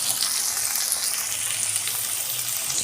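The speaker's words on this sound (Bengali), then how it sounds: "চলো এটা একটু ভাজা ভাজা হোক" Ingredients frying in a pan while tarka dal is cooked Bengali style: a soft, continuous hiss of sizzling oil at moderate volume, with no speech over it.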